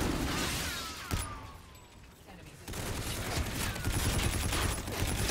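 Gunfire in the video game Call of Duty: Infinite Warfare: dense volleys of rapid shots in a loud, continuous burst, then a brief lull near the middle before the heavy firing resumes.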